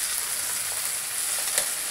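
Bata river fish frying in hot oil in a pan, a steady close sizzle and crackle with no voices over it.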